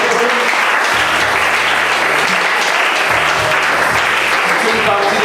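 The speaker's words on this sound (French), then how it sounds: "Applaudissez pour le Seigneur" A church congregation applauding during a sermon, loud dense clapping sustained throughout, with low musical tones and a faint voice underneath.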